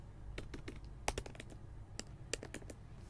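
Computer keyboard typing while coding in ReactJS, with scattered individual keystrokes and a few louder taps in an irregular rhythm, close and clear over a low background hum, no voices.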